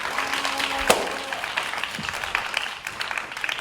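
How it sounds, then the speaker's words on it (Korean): Applause from a school audience welcoming the principal at the close of a student business-model presentation contest, a broad steady patter of clapping with a brief loud burst early on and murmured voices underneath. "큰 박수로 맞이해 주시기 바랍니다."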